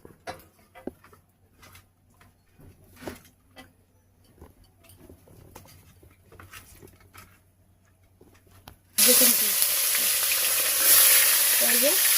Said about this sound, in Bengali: তো সবার প্রথমে মাছটা ভেজে নেব